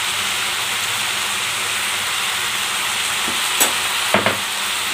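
Vegetable curry of peas, potato, tomato and carrot cooking in a pan on full flame, giving a steady close hiss of steam and bubbling throughout, with a few brief clinks near the end.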